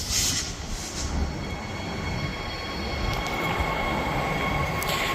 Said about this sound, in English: we have the train to Mandurah that's just pulled in